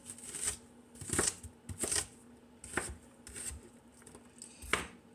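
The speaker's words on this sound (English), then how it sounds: "I am not having a easy time chopping this onion today, am I?" A knife chops through an onion on a board in a kitchen, making a series of quiet, sharp, irregularly spaced chopping clicks with short pauses between strokes.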